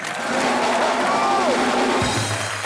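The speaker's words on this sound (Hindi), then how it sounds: "अभी दूल्हा दुल्हन के लिए एक बार जोरदार तालियां हो जाए।" Loud applause and crowd cheering from a comedy show studio audience for a bride and groom, sustained for about two seconds before fading under music.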